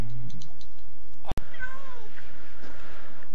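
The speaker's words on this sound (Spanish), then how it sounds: "Y los gatos no me dejan dormir. Malditos gatos y vacas." Cats meow repeatedly at night on a countryside property, drawn-out cries close by, with a sharp click partway through and a faint voice underneath.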